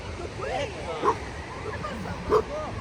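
Dogs bark in short yips on a beach in Palanga, two sharper barks standing out over a steady bed of crowd babble and distant surf, with voices chatting throughout.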